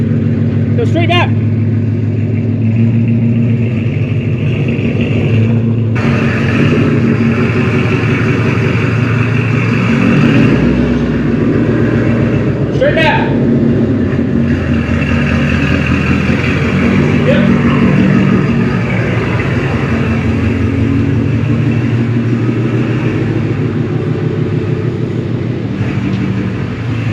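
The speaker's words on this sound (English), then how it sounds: "we got the car backed up in the driveway" A Ford Mustang Mach 1 engine idles in a steady, loud, low rumble while the car reverses into a driveway, with people talking over it.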